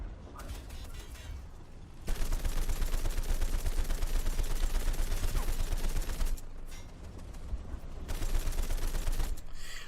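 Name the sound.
gunfire shooting at player's vehicle in War Thunder video game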